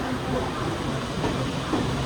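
A steady rumble and hiss of a local train at a platform, with faint clatter throughout and muffled voices in the background.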